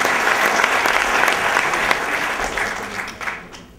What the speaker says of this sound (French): On peut applaudir encore l'équipe de Vatel